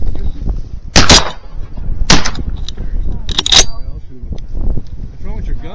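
Shotguns fire during a Nebraska waterfowl hunt, three sharp close blasts spaced about a second apart amid rustling and background noise.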